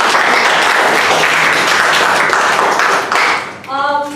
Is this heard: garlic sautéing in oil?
no